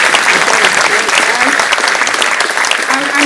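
Dense applause from an audience at an academic-year opening ceremony, steady and full throughout, with a little crowd murmur and talk beneath the clapping.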